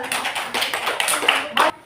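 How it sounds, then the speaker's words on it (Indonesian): Classroom applause for a student named Noval: a short burst of close, quick hand claps from a small group, lasting under two seconds. "tepuk tangan dulu untuk Noval"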